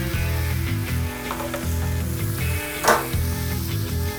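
Adobo-seasoned chicken breast and mushrooms sear in a hot pan for Mexican chilaquiles, giving a steady close sizzle with a brief louder burst partway through; background music plays throughout.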